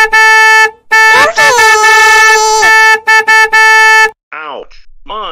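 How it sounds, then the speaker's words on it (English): A car horn honks in loud, sustained blasts, first a short toot and then a long blare of about three seconds, broken by brief stutters, then a few quieter tones at the end in an animated cartoon scene. "Maybe I should honk my horn so he can see me that I have arrived."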